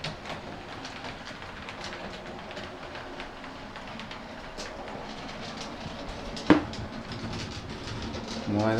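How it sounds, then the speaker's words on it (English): An OO gauge model Great Western pannier tank locomotive hauls a small Rayco freight train around an 8x4 modular layout, giving a steady soft clatter of wheels on track with a sharp click partway through and faint background sounds. "I'm going to get the pannier tank running with a Rayco Great Western freight"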